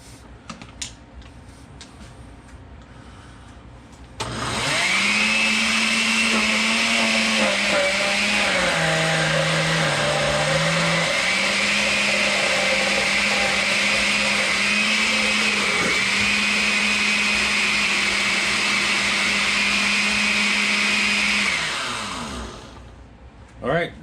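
A blender whirs loudly for about eighteen seconds, its motor pitch dipping briefly midway, starting and stopping abruptly amid faint clicks before and after.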